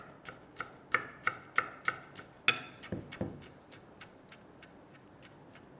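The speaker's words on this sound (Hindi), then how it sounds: "बस उन दोनों को पतला पतला पतला पतला काटना है ऐसे।" Fresh basil or mint leaves being sliced thinly with a knife on a board for a watermelon avocado salad, a run of crisp evenly spaced chops, close and clear, followed by a few softer scraping taps.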